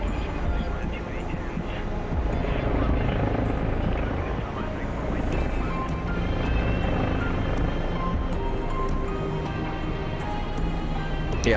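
Hind attack helicopter in a war video game, its steady rotor roar filling the scene continuously from start to finish under occasional talk.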